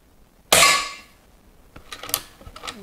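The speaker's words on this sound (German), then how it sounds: "Ich habe die HW100 in ganz normalem Standard-Setup geschossen." A single sharp shot from a Weihrauch HW100 PCP air rifle firing lead-free diabolo pellets, loud and close, with a ringing tail and then soft clicks and handling noises.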